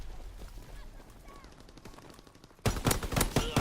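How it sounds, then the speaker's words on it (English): An STG assault rifle in Call of Duty WW2 fires a loud rapid burst near the end, preceded by quieter distant gunfire and game ambience. "I shoot, and I know some of these bullets hit"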